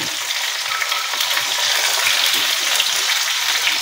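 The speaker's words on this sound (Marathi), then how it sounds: "हे आपण जिरं पण टाकून घेऊया" Cumin, a piece of cinnamon and green chillies fry in hot oil in a pan, giving a loud, steady, close sizzle that runs unbroken from start to finish with no voice over it.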